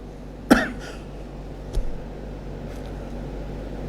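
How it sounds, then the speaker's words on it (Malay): A single sharp cough rings out close by, followed a little over a second later by a softer second cough, both over a steady low room hum with no talking. "Ini batuk tapi bukan flu, bukan."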